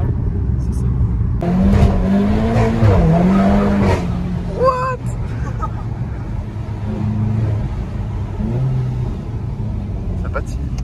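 A Cupra Leon accelerates hard on a wet road, engine revving up and down as the tires spin and squeal in bursts, heard from inside with people talking over it.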